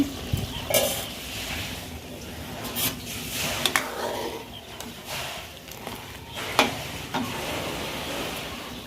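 Home cooking in a pan, with a spatula stirring and scraping in irregular strokes over a low, steady sizzle, close by and with occasional sharper clinks.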